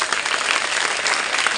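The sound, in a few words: loud applause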